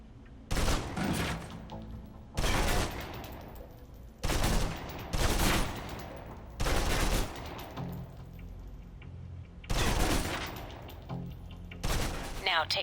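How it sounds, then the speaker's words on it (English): Submachine gun in the video game Alpha Protocol firing full-auto bursts as the clip is emptied, several loud rattling volleys separated by brief pauses, with some talk in the background. "Now, let's move on to the submachine gun. Now let's empty the clip."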